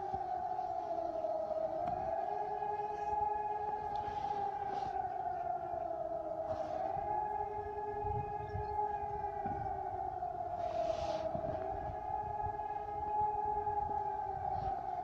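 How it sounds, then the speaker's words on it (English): Air raid and disaster alert sirens being tested in Germany, a steady wailing tone that rises and falls in slow cycles, heard from a distance outdoors. "air raid sirens and disaster alert sirens today here in Germany. For the next half an hour or so they'll be going off."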